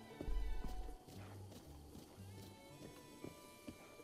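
Horse hooves clip-clopping in Breath of the Wild, a few soft muffled thuds against a low ambient game background after a brief louder rumble at the start, with no speech.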